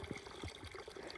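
Water runs at a trail water source in Costa Rica, a faint, steady trickle with gurgling bubbles, quiet and alone.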